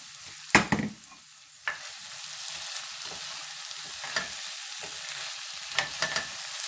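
A pea dish cooks in a covered pot with a steady, close sizzle and bubbling hiss, broken by a few sharp clanks of the lid or spoon.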